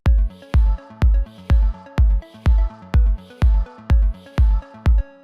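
A looping progressive house synth melody over a steady four-on-the-floor kick, eleven punchy thumps in about five seconds, bright chords repeating in an even electronic pattern.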